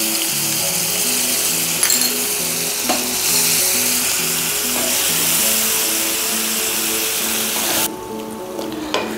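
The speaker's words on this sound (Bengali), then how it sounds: "এবার পেঁয়াজটা দেখুন একদম ভাজা ভাজা হয়ে গেছে" Onion paste frying in oil for mutton curry, a loud, steady, close sizzle lasting throughout with occasional utensil clinks and stirring, easing slightly near the end.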